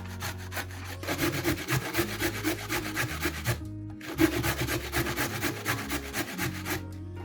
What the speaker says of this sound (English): Grate zucchinis and carrot, and cut parsley and green onions.